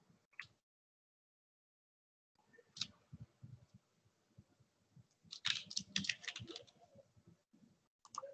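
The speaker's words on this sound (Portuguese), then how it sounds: "Devo pressionar a tecla Shift mais a tecla onde está a segunda função." Notebook computer keyboard being typed on, with a Shift-plus-key combination pressed: a brief click, a pause, then bursts of close, irregular key taps that grow busier toward the end.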